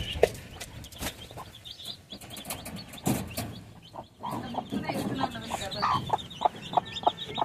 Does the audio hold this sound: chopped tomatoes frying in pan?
no